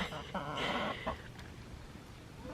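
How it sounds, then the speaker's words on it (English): Chickens roaming around a small stable on a country farm, a few near clucks and short squawks over soft background noise, with a person talking nearby. "The chickens, they absolutely love the little stable here."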